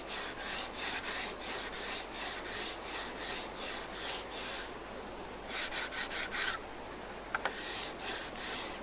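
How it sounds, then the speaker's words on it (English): Wood sanded by hand with sandpaper glued onto a small block, giving a steady run of rhythmic scraping strokes, close and fairly loud, with a short pause and a few lighter taps near the end. "I just glue on some sandpaper, and it's a great small way to level things out"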